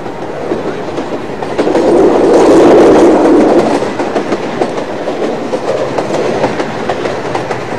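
A passenger train in India rolling along the rails, a loud, continuous rumble with rhythmic clickety-clack from the wheels that swells briefly and then settles, heard close from on board.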